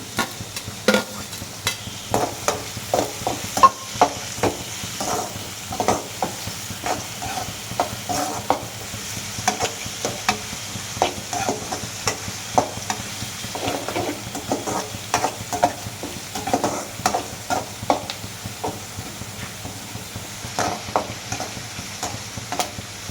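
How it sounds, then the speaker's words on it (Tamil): Curry leaves frying in a pan for sambar, stirred with a spoon in repeated scraping strokes over a steady close sizzle, with no voices. "கருவேப்பிலை போடுவோம்"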